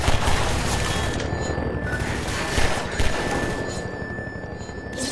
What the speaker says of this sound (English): I'm taking people down with the pistol.